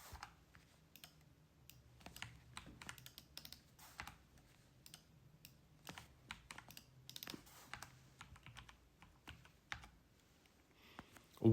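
Typing on a computer keyboard to enter a serial connection command for a Rosco m68k board, soft irregular key taps and clicks in short runs over a quiet low hum, ending in a louder clack.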